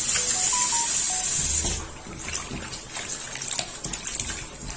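Washed vegetables are pressed hard by hand, sending a loud hissing stream of water out for under two seconds, followed by quieter drips and wet handling noises.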